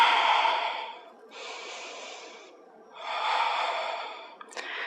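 Slow, audible breaths during a low-body mobility yoga stretch, drawn in and released in long airy swells with a pause between them, close and fairly quiet, no talking.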